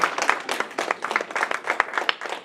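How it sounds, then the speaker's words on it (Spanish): A church congregation claps loudly and steadily at a Spanish-language service, dense overlapping hand claps with a loose pulse and scattered cheers or whistles mixed in. "Denle ese aplauso fuerte al Señor."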